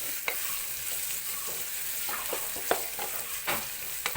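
Onion with cloves, cinnamon and cardamom is stirred in a hot pan, giving a steady close sizzle of frying. Scattered scraping strokes of the spoon cut through the sizzle, and nobody speaks.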